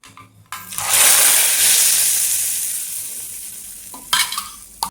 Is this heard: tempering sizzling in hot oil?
yes